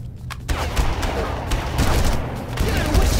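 Rapid bursts of gunfire from the 2004 video game Far Cry, loud and sustained, with shouting voices over the shots.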